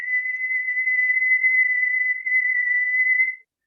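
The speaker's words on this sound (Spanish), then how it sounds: "Estoy silbando." A single steady, high-pitched whistle held on one note for about three seconds, then stopping abruptly, in a physics lecture.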